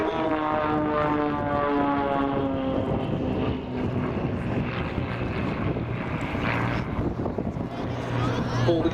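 The Matadors aerobatic display team aircraft fly at the Duxford air show, producing a loud, steady engine drone with a sustained harmonic whine, and wind buffets the microphone throughout.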